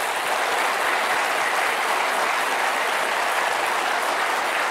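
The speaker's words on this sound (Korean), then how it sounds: "우리 하나님 앞에 영광의 박수를 한번 칩시다." A church congregation claps together at a Korean New Year's Eve worship service, a dense, steady wash of applause that fills the whole stretch without pause.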